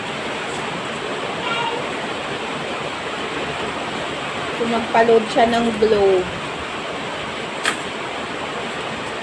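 Heavy rain pours in a dense, steady hiss throughout, with a brief burst of talking partway through.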